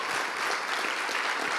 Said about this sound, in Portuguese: Dá para aplaudir!